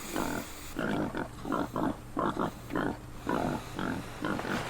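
Arapawa pigs grunt in a steady run of about ten short, rhythmic grunts, close and fairly loud, with only a faint background hiss.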